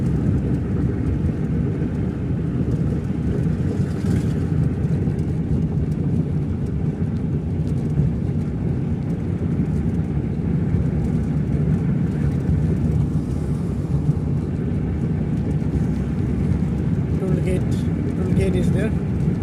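Car cruising at 60 to 70 km/h on a road between West Bengal and Manipur via Assam, a steady low engine and road rumble that holds unbroken throughout at even loudness.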